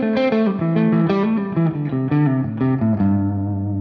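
Electric guitar through the second channel of a UA Super Lion amp pedal plays a quick run of distorted, saturated notes and chords with steady sustain, close and loud with no talking.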